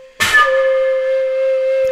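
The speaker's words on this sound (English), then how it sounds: "the first difference in sound that we can get is just by playing the note really," A dongxiao note played hard starts with a hard, noisy burst of breath and chiff, then settles into a strong sustained tone that holds steady to the end.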